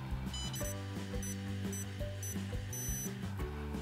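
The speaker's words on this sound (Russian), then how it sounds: "Вот смотрите, слышите, он пикает." Several short high-pitched electronic beeps from a light therapy device ring out over a steady low background hum, fairly close and clear.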